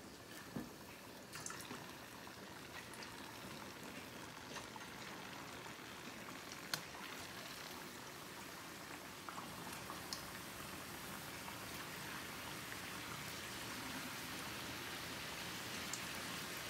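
Plantain slices for cinnamon chips fry in hot oil, giving a steady, dense sizzle and crackle that holds at an even level throughout with occasional sharper pops and no talking.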